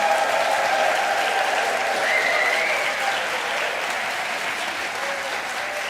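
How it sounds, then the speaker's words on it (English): Raucous audience applause fills a church sanctuary at a Unitarian Universalist congregation's climate justice revival, dense steady clapping that stays loud throughout with a few faint voices mixed in. "let's have a raucous round of applause here"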